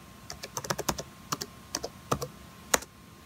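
Password typed on a computer keyboard during a macOS Mojave install on an unsupported Mac: about fifteen crisp, close key clicks in uneven bursts, no talking.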